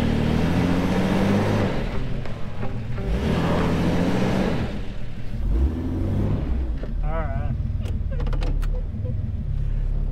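A Jeep labors along an off-road trail, its engine rumbling loudly with surging revs, while people talk over the noise.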